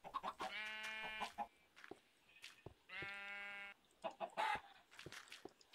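A Minecraft chicken gives two drawn-out harmonic squawks separated by a pause, surrounded by quick, sharp clucks; the sounds are close, clear and alone.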